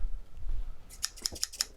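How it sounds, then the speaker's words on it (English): A pair of scissors drops and clatters, giving several sharp, bright metallic ticks in quick succession after a low muffled rumble. "I dropped my scissors."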